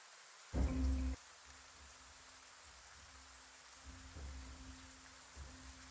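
Rain sound effect playing as background ambience during a tabletop role-playing game, a steady soft wash with a louder burst near the start and quieter swells later.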